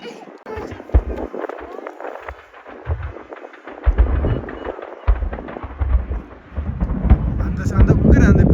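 Fireworks bursting during a national festival holiday celebration in Bahrain, heard from a distance as repeated deep booms and rumbling thuds arriving at irregular intervals, growing denser toward the end, with faint chatter underneath.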